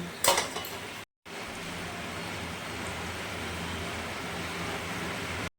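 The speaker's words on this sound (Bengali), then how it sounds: "এবার আমি ভেজে রাখা কই মাছগুলো এর মধ্যে আমি দিয়ে দিচ্ছি" Fried koi fish dropped into a simmering curry in a pot, with a brief clatter of metal at the start followed by a steady, even bubbling hiss.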